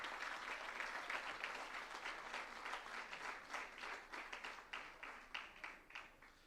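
An audience at a business chapter launch event near Bangalore claps, a faint, steady patter of many hands that grows into a rhythmic, more unified beat toward the end.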